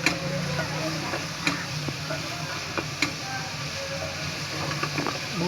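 Potatoes and cauliflower being stirred into masala in a pan for aloo gobhi, with a steady low sizzle and scattered soft clicks and scrapes of the spoon against the pan, close and moderately loud, no talk.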